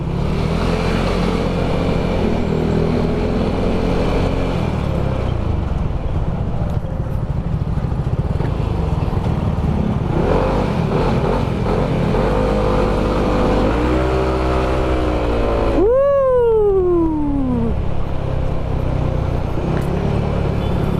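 A motorcycle with a freshly refreshed engine drones steadily at close range, its revs rising and falling, and one vehicle sweeps past with a sharp falling pitch near the end.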